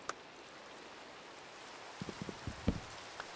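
Faint, soft rain hiss falling indoors in the building game Relaxicraft, a low continuous patter with a few small scattered clicks and knocks near the end.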